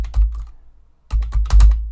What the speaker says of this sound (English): I'm just going to type in the name